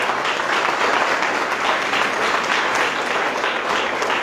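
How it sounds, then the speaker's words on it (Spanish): A church congregation applauds loudly and steadily, a dense wash of many hands clapping at once that holds evenly throughout, with no voices on top. "Vamos a darle un fuerte aplauso a Cristo."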